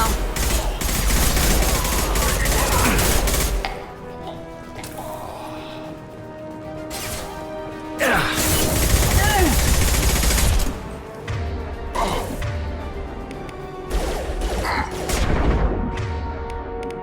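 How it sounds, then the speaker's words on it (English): Gunfire in the Mass Effect 2 video game: loud bursts of rapid automatic shots and heavy impacts come in waves, separated by short lulls, with occasional brief voices in the mix. "Firing now!"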